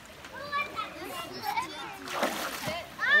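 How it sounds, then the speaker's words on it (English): Water splashes on a whitewater outing among rocks, with a burst of splatter near the middle, while children and adults talk and call out over it throughout. "Oh, don't splash him like that."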